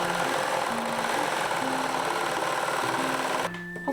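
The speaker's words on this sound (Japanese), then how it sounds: "脇にロックミシンをかけます。" A serger sews continuously along the side seam of a high-neck coat, producing a loud, even mechanical hum and chatter that cuts off near the end, with no talking.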